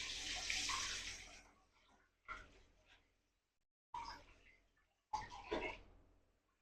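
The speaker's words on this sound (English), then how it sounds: "So let me go ahead and wash my hands." Hands are washed under a running kitchen sink tap, with a few separate bursts of splashing water that start strongly, fade, and return between short quiet gaps.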